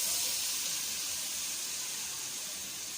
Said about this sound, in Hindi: अब उसी कुकिंग ऑयल के अंदर हम अपने प्याज डाल देंगे।